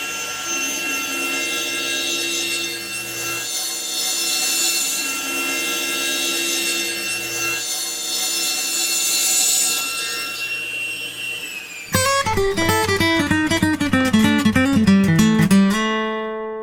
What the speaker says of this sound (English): Let's make this cut.